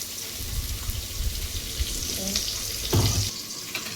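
Tomatoes frying in a pan give a steady, dense sizzle, close and fairly loud, with a brief stir or clatter near the end.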